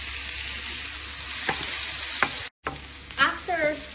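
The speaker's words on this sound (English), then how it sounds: "In a preheated frying pan on maximum heat, we're going to add the onions." Onions sizzle steadily in vegetable oil in a preheated frying pan on maximum heat. A spoon scrapes the pan now and then as they are stirred, close up and with no voices.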